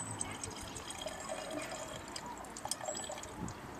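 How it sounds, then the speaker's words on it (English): Water from a hose running into the cooling system of a Suzuki Hayabusa motorcycle, a steady close splashing trickle with small drips throughout. "we're just filling it up now with fresh water while the hose is on"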